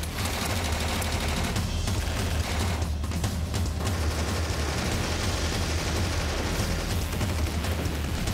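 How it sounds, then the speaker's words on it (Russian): Dense, continuous gunfire rattles throughout, rapid overlapping shots with heavy low rumble, loud and relentless like a battle scene. "Воздух оглашали выстрелы"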